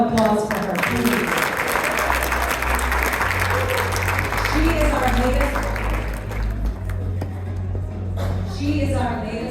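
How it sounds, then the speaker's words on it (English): An audience at an annual women's empowerment fundraising gala claps loudly and continuously, the dense applause running under a voice speaking over it, with a low sustained musical drone beneath. "A huge round of applause for her, please."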